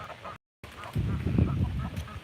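Ducks call outdoors on a farm, a burst of harsh honking quacks rising after a brief gap, fairly close and lively.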